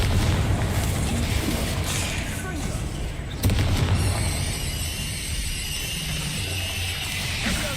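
Confringo fire spell explosions during a Hogwarts Legacy dragon battle, loud booming blasts over dense rumbling game noise, with a sharp impact midway and a player talking throughout.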